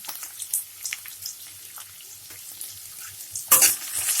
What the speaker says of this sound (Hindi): अब मैंने इसमें डाल दिया है